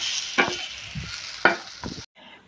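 Colocasia leaf rolls (alu vadi) sautéing in a pan, with a continuous sizzle broken by two or three louder scrapes of stirring before the frying noise drops off near the end.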